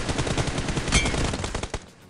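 Rapid automatic gunfire in PUBG Mobile, a dense burst of shots in quick succession for about two seconds, loud and close before cutting off.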